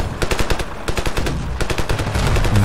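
Rapid automatic gunfire in the Ravenfield shooter game, a dense, loud, continuous burst of sharp shots with no gaps.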